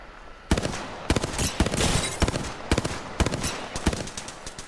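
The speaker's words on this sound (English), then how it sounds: "So 2 bursts hit, then he immediately gets shot from the back." Rapid bursts of automatic gunfire from an Apex Legends match, several sharp volleys with brief gaps, loud and close, no talking.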